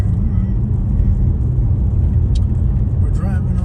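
Steady low road rumble from a car cruising along a boulevard in Pasco County, Florida, continuous and close throughout, with a brief higher hiss of passing traffic near the end.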